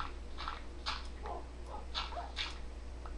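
Several short, high whimpering yelps from a wolf in Minecraft, spaced irregularly over a steady low hum, fairly quiet and with no talking.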